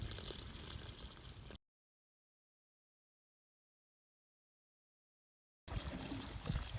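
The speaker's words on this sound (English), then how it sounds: "running some water through it one last time, make sure it's nice and clean" Water running through an oak rain barrel to rinse it clean, a steady trickling, splashing flow at first, then a long stretch of silence, then the flow resumes.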